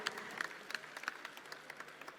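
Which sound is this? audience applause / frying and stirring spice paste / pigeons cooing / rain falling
audience applause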